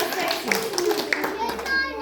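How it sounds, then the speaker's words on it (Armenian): A children's group clapping, a few scattered hand claps heard over ongoing talk and children's voices in a room. "Ծափահարենք, լսեցինք։"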